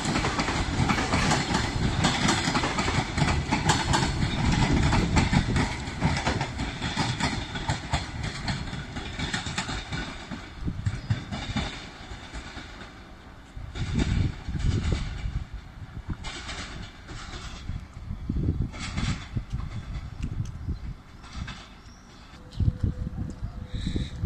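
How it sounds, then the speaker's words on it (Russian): A long train rumbles past close by, its wheels clattering steadily over the rails, loud at first and easing slightly toward the end. "Длинный поезд, да, Ром?"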